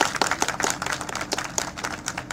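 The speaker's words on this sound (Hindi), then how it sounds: "आप सबकी तालियां एक बार जोरदार बजनी चाहिए।" An audience at a televised Hindi event applauds on request, a lively burst of many hands clapping with sharp, uneven claps, moderately loud and unbroken.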